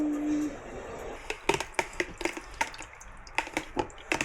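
Tap water splashes around a container being rinsed clean, with close, irregular clinks and knocks of the vessel under the running stream and no talking.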